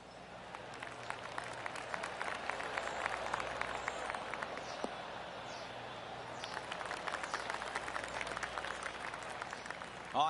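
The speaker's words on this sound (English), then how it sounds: "I can hear the golf claps around the course" Scattered golf crowd applause around the course in the video game PGA Tour 2K25, a soft spread of distant claps rising and falling over about ten seconds with a faint ambient bed beneath, no talk.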